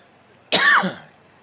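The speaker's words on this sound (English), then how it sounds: "Sorry about the coughs" A single short, harsh cough, close and alone, breaks the quiet during commentary on a Phillies versus Dodgers baseball game in OOTP 24.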